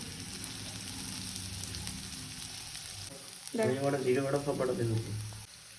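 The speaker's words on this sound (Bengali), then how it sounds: "পেঁয়াজটাও হালকা ভাজা হবে এরপর লাল করে" Onions frying in hot oil in a kadai make a soft, low sizzle, with a person talking over it toward the end.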